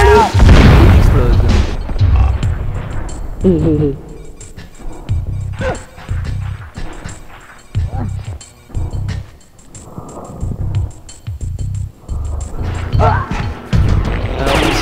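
An explosion in the video game Abe's Oddysee: a loud booming blast near the start followed by a series of heavier thuds and crashes, with game sounds continuing throughout.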